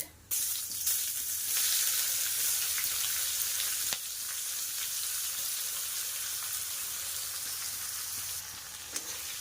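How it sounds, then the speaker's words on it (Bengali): Chopped onions frying in hot oil with dry red chillies, cumin, bay leaf, whole garam masala and peppercorns, a steady loud sizzle running throughout with a brief stir partway. "পেঁয়াজগুলোকে একটু ভাজা করে নেব"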